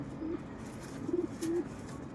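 Soft pigeon coos, three short low calls spaced apart, over a quiet background hum; no talking.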